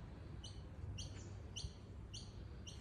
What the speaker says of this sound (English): you can hear all the birds